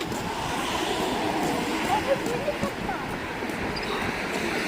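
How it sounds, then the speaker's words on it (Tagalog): Steady wind rushing across the microphone in a low, broad roar, with a faint voice briefly heard under it. "Lamig, may hangin pala."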